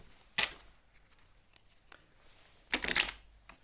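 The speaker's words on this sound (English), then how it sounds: "I am going to shuffle." A deck of cards is shuffled in two quick riffling bursts, the first brief and the second longer, with soft handling taps in between at close range.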